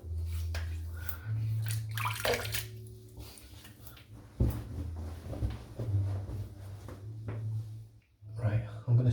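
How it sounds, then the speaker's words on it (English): Water splashes and drips at a sink as someone wets their face for a shave, in uneven bursts, with someone talking throughout. "I'm just going to wet my face."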